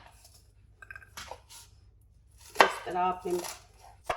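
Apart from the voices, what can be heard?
knife cutting onion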